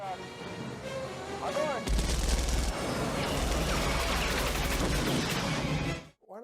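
A rapid burst of heavy aircraft cannon fire in a movie air combat scene roars for several seconds, dense and loud, with a voice speaking briefly before it starts.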